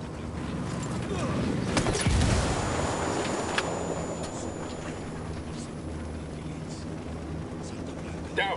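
An Apache attack helicopter in a video game battle thrums with a low rotor drone beneath bursts of gunfire and clanking mechanisms, loud and close, while players talk.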